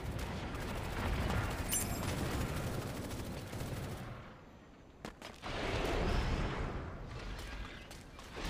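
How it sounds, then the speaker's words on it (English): Gunfire in the Super Mecha Champions video game, a dense stretch of rapid shots and blasts with a brief lull before another loud volley, no talking. "What was that? Gunshot?"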